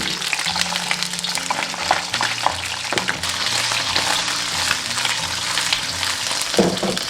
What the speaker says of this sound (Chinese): 油热过后加入桂花鱼，中火煎